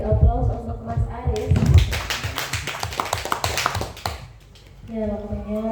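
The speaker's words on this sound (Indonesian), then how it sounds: "beri aplaus untuk Mas Aris" A short round of audience applause for a presenter at a nursing talk, a burst of close claps lasting a few seconds between stretches of speech.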